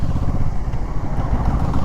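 A 2023 Kawasaki Z650 motorcycle engine drones close and loud with a low, throbbing rumble while riding in gear, steady and uninterrupted.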